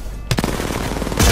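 Video game gunfire, two close, loud bursts of shots a second apart, the second sharper and heavier.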